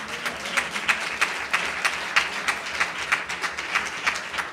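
Congregation clapping in rhythm during an anniversary church service, steady repeated claps about four or five per second, moderately loud and continuing without talk.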